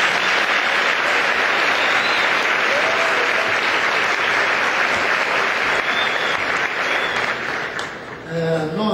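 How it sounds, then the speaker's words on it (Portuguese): A church congregation applauds loudly and steadily for several seconds, dense clapping that eases slightly near the end as a voice begins. "Vamos aplaudir, louvar a Deus pela vida dos irmãos."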